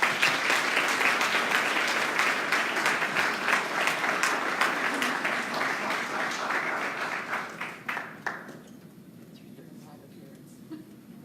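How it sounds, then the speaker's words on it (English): Audience at an education tour event in New Orleans gives sustained, dense applause for several seconds, gradually thinning to scattered final claps near the end. "Do another round of applause."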